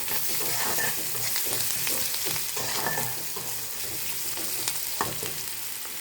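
Whole garam masala and cumin seeds frying in a generous amount of hot oil for a Bengali katla fish curry, a steady close sizzle with occasional sharper pops and light stirring scrapes, no voices.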